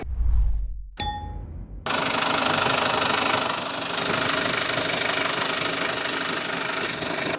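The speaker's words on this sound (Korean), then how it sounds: "엔진 소리도 굉장히 좋고 누유도 없습니다" A Chevrolet Orlando seven-seat SUV idles steadily with its hood open, a dense, even engine drone holding for several seconds after a couple of brief metallic clanks and a ringing ding at the start.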